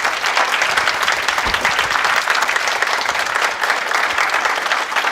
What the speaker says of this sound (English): another big round of applause for everybody who entered the competition